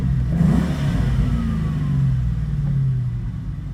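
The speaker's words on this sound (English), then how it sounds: "A couple revs for you." A 2001 Ford Mustang Bullitt V8 revs up loud and close, then holds a deep, rumbling roar that slowly settles back down, with no talking.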